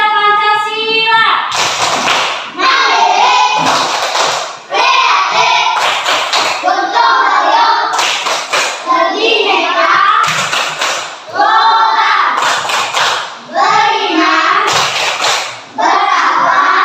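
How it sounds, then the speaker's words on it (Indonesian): Schoolchildren at an elementary school in South Nias perform the Pancasila student profile clap, loud patterned bursts of hand claps alternating with chanted phrases in a repeating rhythm. "coba dulu tepuk profil pelajar Pancasila"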